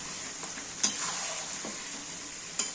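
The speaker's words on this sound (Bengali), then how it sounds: "এবার একটু নেড়ে দেব," Mutton curry is stirred in a pan, the meat sizzling and frying steadily with a few soft scrapes and clinks of the utensil against the metal.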